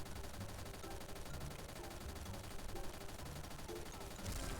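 Rapid bursts of AK rifle fire in the online shooter XSHOT, a continuous dense fusillade of shots with a brief louder burst at the end.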